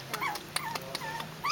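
A puppy in a nipa hut whimpers and gives small growls in a rapid run of short, high, close-up yelps and whines.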